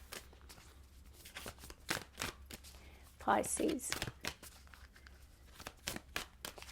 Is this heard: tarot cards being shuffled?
yes